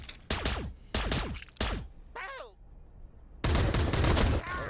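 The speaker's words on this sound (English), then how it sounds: "Even the autocannons are opening up." Autocannons fire in a Warhammer 40,000 battle between Astra Militarum and Orks, loud heavy bursts of gunfire with sharp repeated reports and a brief whistling sweep between salvos.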